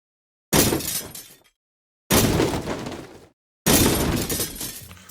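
Three separate bursts of synthesized glass shattering debris, built by granular synthesis for game audio, each a sharp bright crash decaying into scattered tinkling shards, with silence between them.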